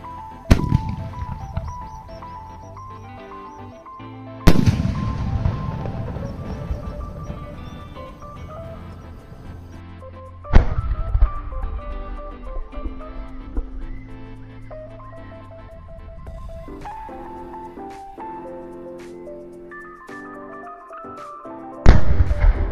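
Triumph Sky Shot firework being test-fired outdoors: several sharp launch bangs spaced seconds apart, each followed by a long crackling, fizzing decay, at moderate volume with no talk.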